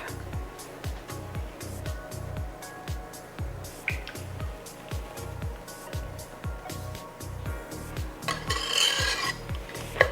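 A spatula scrapes homemade ice cream mixture into a freezer-safe pan, a steady series of rhythmic rasping strokes roughly every half second, close and fairly quiet, with a brighter scrape near the end.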